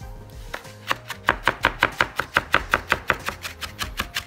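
A knife chops through compressed food on a cutting board in a quick, even series of about fifteen crisp close-up knocks, with no talking.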